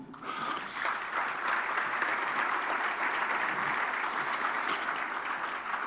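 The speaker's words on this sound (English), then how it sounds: "give them a round of applause to the entire staff and volunteers" Sustained applause from a crowd at a luncheon fills the room, dense and even clapping that holds steady for several seconds.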